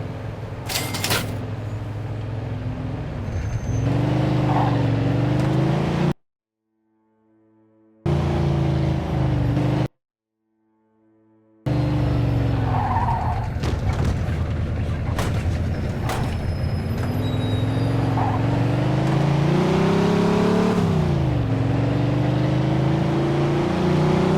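A car driven fast in Mafia II, its engine droning steadily and rising and falling in pitch as it accelerates and shifts, loud and close throughout, with two brief silent gaps cutting the sound.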